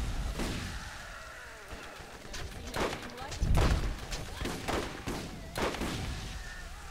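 Gunfire from the Borderlands shooter game, a run of sharp shots and bursts at irregular intervals, some heavy thumping blasts, with players talking over it.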